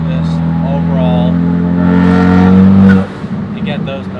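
Ford Focus RS fitted with an MBRP downpipe and ETS Extreme exhaust runs loud and steady with a strong low drone, then cuts off abruptly near the three-second mark into a quieter, crackling tail of pops.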